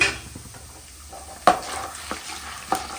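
Peanuts frying in hot oil in a pan, a steady sizzle with a few sharp stirring knocks and scrapes of a utensil, close by and with no voices.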